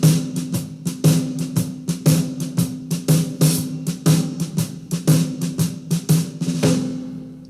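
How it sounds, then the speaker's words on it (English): Drum kit playing a Detroit shuffle: steady four-on-the-floor bass drum under both hands shuffling between hi-hat and snare, a loud, close, continuous swung groove with no talking. "Give yourself 4/4 on the bass drum, and both hands do a shuffle, and it'll sound like this."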